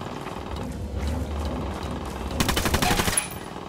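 Rapid automatic gunfire in the video game Ghost Recon Wildlands, a fast rattling burst near the end over a dense background of game noise, loud and close.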